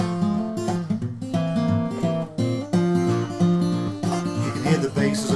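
Fingerpicked acoustic blues guitar in E with a steady flowing pattern, the bass notes short and palm-muted while the upper strings ring out, played alone.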